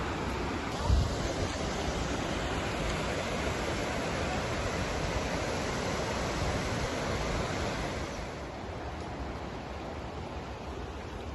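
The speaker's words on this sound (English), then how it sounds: "the distant roar of falling water, a reminder that nature is close" A steady, broad roar of rushing water from Bamburu Ella waterfall in Nuwara Eliya, Sri Lanka, heard at a distance, fills the whole stretch, constant and noisy with no voices, easing slightly toward the end.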